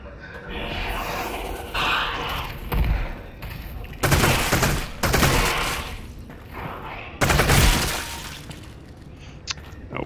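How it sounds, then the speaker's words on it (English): Machine pistol fire in Half-Life comes in several loud rapid bursts separated by short pauses, with sharp crackling impacts, close and punchy, over quieter game ambience between volleys. "I have many bullets now for my machine pistol, so let's use some of them."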